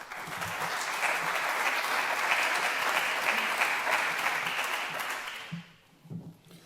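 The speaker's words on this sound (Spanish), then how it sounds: "Un aplauso para nuestro primer invitado, Juan Arana, presidente de Astilleros Murueta" An audience at a business talk event applauds the first guest, Juan Arana, president of the Astilleros Murueta shipyard, with sustained, even clapping from many hands that fades out near the end, leaving a few faint sounds.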